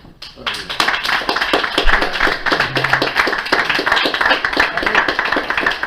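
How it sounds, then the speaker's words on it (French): An audience claps for a performer at a live French stage night, a dense, steady patter of many hands that starts abruptly and holds close and lively throughout, with voices faintly mixed in. "On applaudit monsieur Alexandre Peur"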